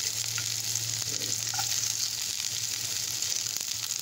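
Chopped onions frying in hot oil in a kadai, a soft continuous sizzle with a low steady hum beneath and a few faint clinks, close and without talk.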